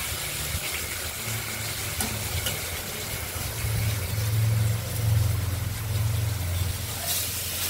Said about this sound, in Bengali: মাছগুলো এক এক করে ভাজা করে নেব।